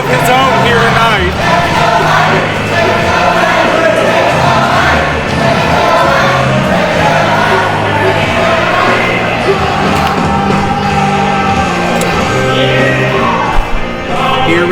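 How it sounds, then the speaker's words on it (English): A professional wrestling crowd at an indie show chants loudly in unison, a dense roar of many voices with rhythmic yells and whoops that fills the arena continuously at close, overpowering level. "the crowd with quite the original chant"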